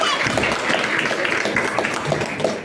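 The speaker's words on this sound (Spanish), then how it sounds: "Un aplauso para nuestro Dios y ustedes." A church congregation claps after the closing blessing of a Mass, a dense, steady patter of many hands filling the room with voices mixed in throughout.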